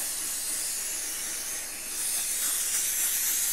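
Spray being applied to a diamond painting, a steady close hiss that swells slightly toward the end.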